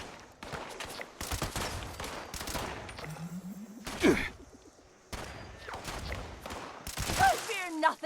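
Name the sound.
gunfire and headshots in a video game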